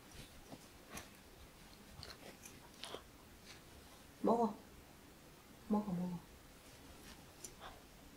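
A miniature pinscher dog chewing a chicken-flavoured Dingo chew, with two short, close bursts of crunchy gnawing against a quiet room background and faint scattered clicks.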